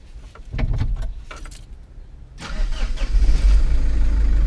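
A Mitsubishi Fuso Canter B85 truck engine cranks and fires after a few soft clicks, then settles into a steady, fairly loud idle close by, with no talking.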